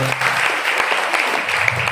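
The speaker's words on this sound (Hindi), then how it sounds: "चलो जोरदार तालियां होनी चाहिए यार" An audience at a motivational talk claps energetically, a brief burst of steady, crisp applause from many hands, close and continuous for a couple of seconds.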